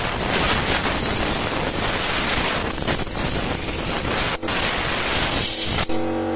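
Steady, loud rush of blown air drying the wet chassis and connectors of a Xiaomi M365 electric scooter, a continuous close whooshing with brief dips, no talking.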